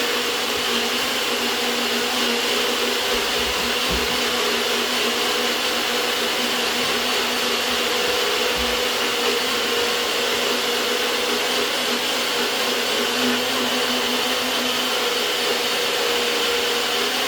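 A blender whirs continuously at high speed, loud and close, churning a smoothie with seeds and nuts in a steady roar without a break.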